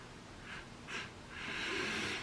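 A person sniffs a clean sneaker, a gold-accented shoe, with two short quiet sniffs followed by a longer drawn-in breath, close and soft with no talking.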